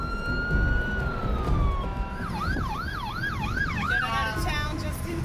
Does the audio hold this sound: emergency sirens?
yes